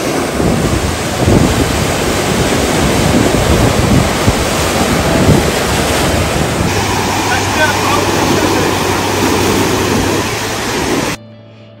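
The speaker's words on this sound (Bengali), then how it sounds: "বাতাসের গর্জন, বড় বড় পাথরের চাই আর আছড়ে পড়া ঢেউ" Strong wind roars across the microphone while heavy surf crashes continuously against large boulders on the coast at Mirissa, Sri Lanka, loud and close, ending abruptly.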